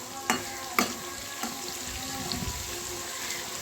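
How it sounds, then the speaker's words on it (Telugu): Food frying in a pan: a steady close hiss runs throughout, with a few sharp utensil clicks early on and no talk. "మళ్ళీ ఇప్పుడు ఆ ఫ్రై అయిపోతుంది."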